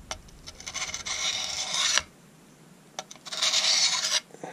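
An M9 bayonet blade is rubbed against the sharpening stone built into the back of its worn scabbard. Two rasping strokes sound up close, separated by a short pause with a faint click.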